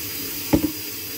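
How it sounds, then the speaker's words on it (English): Water runs steadily from a tap into a sink while doing dishes, with an even hiss, broken by a couple of brief splashy bursts midway. "I'm just gonna do the water a second."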